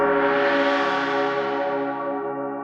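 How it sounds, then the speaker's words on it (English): Gong and church bell sounds in a hip-hop beat, heard as a single long, shimmering metallic tone with rich overtones that swells and then slowly fades, sustained and mid-level. "Then I've added a gong every 16 bars, I think. And it goes kind of well with the church bell."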